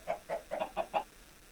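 Minecraft chicken clucking in five short, evenly spaced clucks, clear and close with no talk over them.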